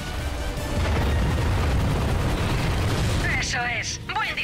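A ship-mounted cannon shot strikes an enemy vessel on Planet Quartu in Ratchet & Clank, producing a loud, rolling boom that rumbles for about three seconds before short bursts of voice chatter.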